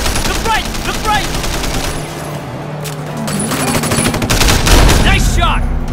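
Sustained gunfire in Sleeping Dogs, rapid automatic bursts and sharp shots packed tightly over engine-like rumble, loud and close throughout, with shouting voices mixed into the firefight.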